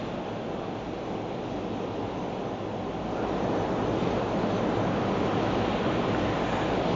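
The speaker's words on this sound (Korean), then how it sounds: "바다를 보고 있는 호텔인데 파도 소리가 들리시는지 모르겠네요." Steady ocean surf in Jacksonville, Florida, heard from a hotel balcony facing the sea, forms a continuous broad wash of breaking waves that grows slightly louder partway through, with no talking over it.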